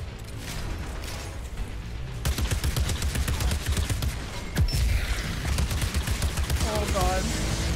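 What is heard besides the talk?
enemy rifle gunfire in Outriders video game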